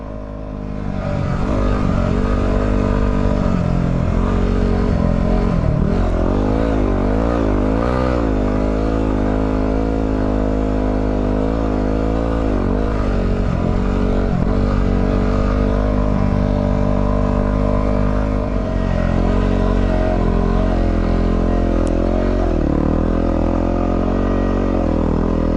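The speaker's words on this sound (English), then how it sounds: "there's 2 MX bikes flying past me" Two MX dirt bikes blast past on a deep sand trail, their engines loud and close and rising and falling over a constant roar of a dual-sport motorcycle, with no voices.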